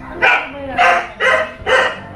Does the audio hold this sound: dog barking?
yes